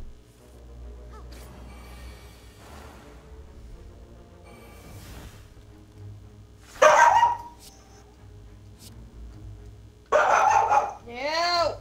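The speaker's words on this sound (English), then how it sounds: "No, what are you barking at?" A dog barks loudly in two short bursts, one near the middle and one near the end, after a quieter stretch of faint background sounds.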